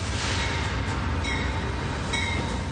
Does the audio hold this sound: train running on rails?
yes